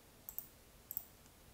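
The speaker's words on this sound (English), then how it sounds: "and then I click Q" Keyboard shortcut Q pressed while sketching in Onshape CAD software. Two pairs of faint, crisp key clicks sound close to the microphone in an otherwise quiet room.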